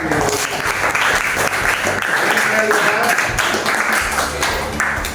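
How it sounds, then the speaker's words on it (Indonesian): A class of students applauds for group 5 in a school discussion session, a steady wash of clapping throughout at close range, with overlapping voices mixed in. "tepuk tangan buat kelompok 5"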